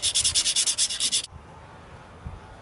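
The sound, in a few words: sanding rust and paint off crankshaft pulley with sandpaper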